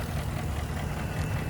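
A 2017 Ford F250 Lariat Super Duty engine idles with a steady, dense low rumble and an even broadband hum throughout, close and continuous with no voices.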